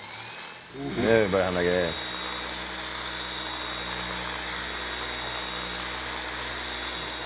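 A car polishing machine starts up on a car's paintwork and settles into a steady, even electric whir that hums on unchanged, with someone speaking briefly as it starts.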